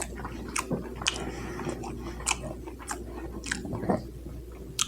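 Shrimp being bitten and chewed up close, with irregular wet crunches and squishy smacks over a low steady background hum.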